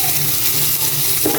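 Pork ribs marinated in soy sauce and pepper fry in a pan with a loud, close, continuous sizzle, a brief clatter of a utensil near the end and no talking.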